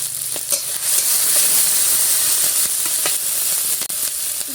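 Onion paste and green chilies sizzle loudly in hot oil, a dense steady frying hiss broken by occasional stirring clicks and scrapes, with no voices.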